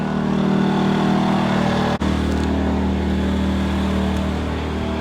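Steady drone of two Harbor Freight Predator 2000 inverter generators running a camper air conditioner, close and loud, their engine hum rising slightly after a brief dropout.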